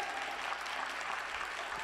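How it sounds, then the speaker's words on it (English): A short burst of steady audience applause for standing students at a forum, dense clapping at moderate distance. "give them a round of applause"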